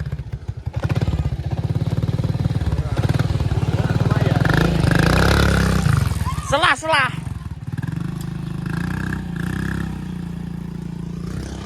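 A motorcycle engine idles with a low, throbbing rumble, loudest in the first half, under people chatting nearby with clattering sounds.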